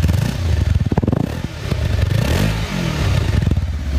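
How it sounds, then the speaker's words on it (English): A Kawasaki X300 motorcycle engine idles and revs close by, its low, even exhaust thrum pulsing steadily and muted rather than loud. "Nice quiet exhaust note."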